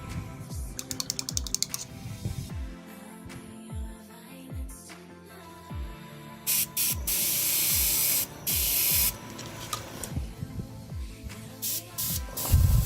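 An airbrush running at about 15 psi sprays paint in repeated short hissing bursts, some long and loud, close up, with light clicks and clatter between passes.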